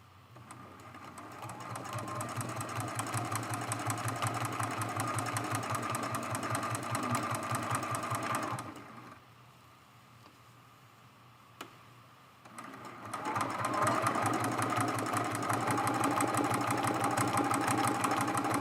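A sewing machine stitches down appliqué on a quilted mug rug, whirring steadily and fairly close. The motor stops for a few seconds midway, then starts up again at full speed.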